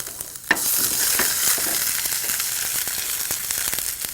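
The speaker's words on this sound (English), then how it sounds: "Now let's add our fresh ginger. When you fry the ginger like this," Steady, loud sizzling of ginger frying in hot ghee, a continuous crackling hiss with a few sharper pops, close up and with no talking.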